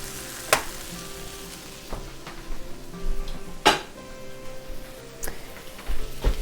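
Onions sizzling in a frying pan as they caramelize, a steady faint hiss broken by sharp clinks of a utensil against the pan, close and with no talking.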